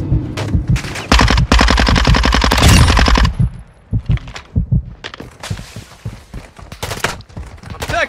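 Automatic gunfire in Warzone 2.0 rattles in loud rapid bursts, then breaks into scattered shots and impacts with brief quieter gaps between them.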